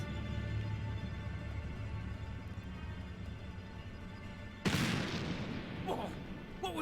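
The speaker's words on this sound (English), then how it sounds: "Sounded like a gunshot." In the video game Black Mirror III, a single sharp gunshot-like bang cracks out abruptly after a stretch of quiet ambience, followed by a short rumbling tail.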